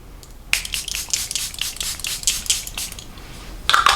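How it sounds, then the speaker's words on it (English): A bottle of Charlotte Tilbury makeup setting spray fires a quick run of close, crisp hissing mists, pulse after pulse for a few seconds, with a final burst after a short pause. "Charlotte Tilbury spray."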